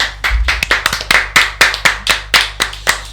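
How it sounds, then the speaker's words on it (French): Sparse audience at a local event claps, a handful of distinct, close hand claps in an uneven rhythm rather than a full crowd sound. "Applaudissements s'il vous plaît pour Audrey et pour Laurence."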